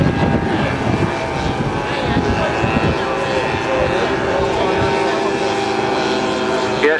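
Model aircraft engines running at an airshow, a loud continuous buzzing drone with shifting pitch that fills the whole stretch, blended with outdoor crowd noise.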